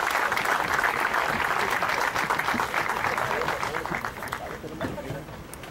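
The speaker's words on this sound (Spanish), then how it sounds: "Fuerte aplauso para él, por favor." Crowd applauding the governor of Sinaloa at a Sleep Inn Mazatlán hotel inauguration in 2016, a loud, dense burst of many hands clapping with some crowd murmur, gradually tapering off toward the end.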